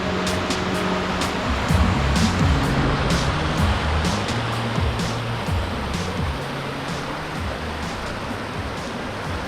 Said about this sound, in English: We're gonna cross the river that feeds into the waterfall